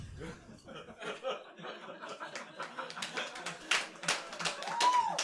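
Stand-up comedy crowd laughing and clapping after a joke about a power blackout, scattered chuckles and claps building into denser bursts, fairly close, with no speech over it.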